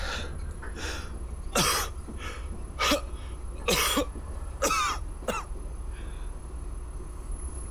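A character coughing in the horror adventure game The Charnel House Trilogy, a series of harsh, hacking coughs in separate bursts over a low constant background hum.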